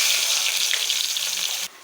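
Onions sizzle and crackle loudly in hot oil with fennel seeds, a dense close-up frying hiss that cuts off abruptly near the end.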